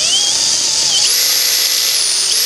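A power drill bores into the door jamb of an Astro van, a loud steady high-pitched whine with shifting pitch, close and continuous.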